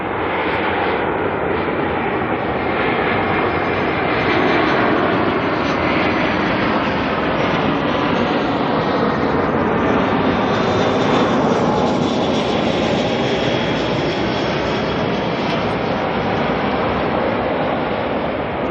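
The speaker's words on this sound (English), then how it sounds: "NZ570 coming in from Christchurch next." Air New Zealand flight NZ570, an airliner arriving at Auckland Airport at night from Christchurch, roars steadily and loudly as it comes in, with the engine tone rising and shifting through the middle of the pass.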